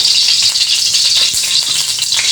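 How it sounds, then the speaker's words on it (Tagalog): Onion, garlic and ginger sautéing in hot cooking oil, a steady bright crackling sizzle, close and loud, with no voices. "maglagay tayo ulit ng mantika at maggisa tayo ng sibuyas, bawang at luya"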